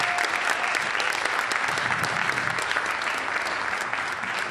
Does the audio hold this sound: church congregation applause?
yes